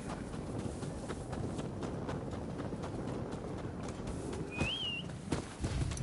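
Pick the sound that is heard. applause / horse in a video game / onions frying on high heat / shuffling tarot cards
horse in a video game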